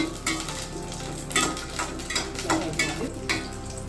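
White green chillies, seven or eight of them, fry in a pan for a Telangana-style greens dish, with a soft sizzle broken by several sharp clinks and scrapes of a spoon stirring against the pan.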